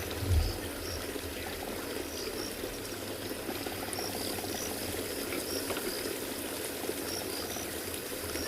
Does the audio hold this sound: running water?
yes